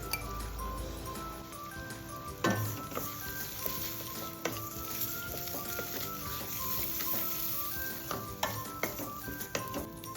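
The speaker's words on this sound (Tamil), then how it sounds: "மஞ்சத்தூள், தக்காளி, வெங்காயம் எல்லாம் சேர்ந்து வதங்கட்டும்" Onion, tomato, salt and turmeric sautéing in a pan for a mutton fry, giving a low continuous sizzle under repeated scraping stirs and intermittent metallic clinks of a spoon against the pan.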